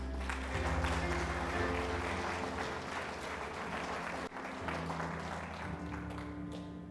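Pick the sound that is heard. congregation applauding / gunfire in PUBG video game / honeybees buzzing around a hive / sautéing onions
congregation applauding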